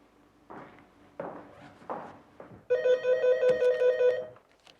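Footsteps and knocks give way to a telephone ringing loudly in a French film from 1991: one sustained, bright electronic ring that holds steady for nearly two seconds, then cuts off.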